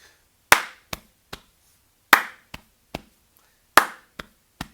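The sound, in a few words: class clapping together in rhythm warm-up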